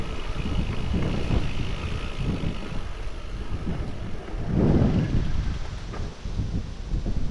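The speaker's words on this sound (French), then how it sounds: "mais il y a du vent hein" Gusty wind buffets the microphone during an electric mountain bike loop near Lesaka, a loud, continuous low rumble with surges and dips as the gusts rise and fall.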